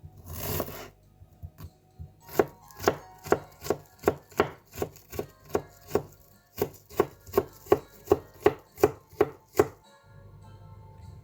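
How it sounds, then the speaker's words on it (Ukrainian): A knife chops onion into small cubes on a cutting board for chicken fillet cutlets. About twenty crisp, evenly spaced chops tap out a steady rhythm close by, with a short pause in the middle and no talking. "Цибулю також нарізати на дрібні кубики."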